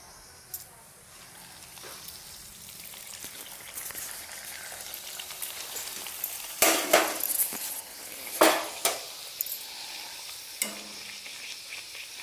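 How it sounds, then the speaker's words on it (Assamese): Puri fry in hot oil in a kadai with a soft, low sizzle. Sharp clinks of a metal utensil against the pan cut in now and then, and some faint talk sits in the background. "তো আপোনালোকক দেখাওঁ এতিয়া মই পুৰি ভাজোঁ"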